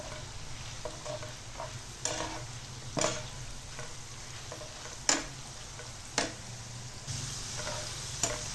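Potato chips deep frying in hot oil for masala fries, a continuous close crackling sizzle broken by sharp clicks and knocks at irregular intervals, with no voices.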